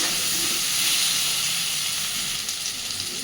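Potatoes fry in hot oil for a Bengali rohu fish kalia, a loud, continuous sizzle and hiss with no pauses and no voices over it.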